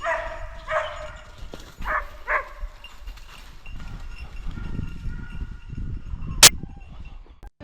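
Hunting dogs bark in short bursts during a driven hunt in open country, fairly close at first, then fading into a quieter rustling background and a sharp click near the end.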